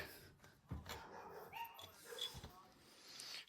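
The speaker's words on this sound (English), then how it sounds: "and now the neighbor's dogs are going crazy" Several neighborhood dogs bark and yip in scattered bursts at a moderate distance, mixed with outdoor background noise near someone working on a Honda XR75 motorcycle.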